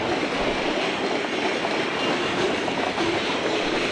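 A train rolls along a railroad track beside a fertilizer plant in Monroe Center, Illinois, giving a steady, loud, close rumble with faint wheel clatter throughout and no talking.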